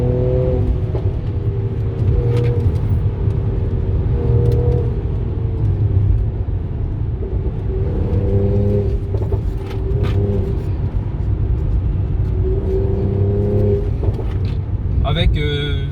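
A turbocharged Mercedes C450 AMG rumbles and pulls with a low, throaty engine drone heard from inside the cabin, swelling in waves across a long stretch while someone talks over it.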